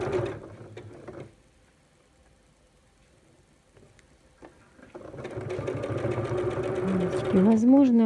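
A sewing machine stitches fabric with two threads, running in a short burst, falling quiet, and then starting again in a longer, steady mechanical whir close by, with someone talking over it near the end.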